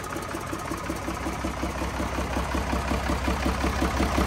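A WECHAI 380 engine runs smoothly and steadily, a close, even mechanical hum with a regular pulsing beat and no misfires, heard alone without talk.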